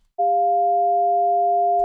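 Two steady sine tones generated in SuperCollider, one around amplitude 0.2 and another at 0.7, start abruptly and hold as a clean, unwavering pure-tone hum for nearly two seconds, with a faint click at the end.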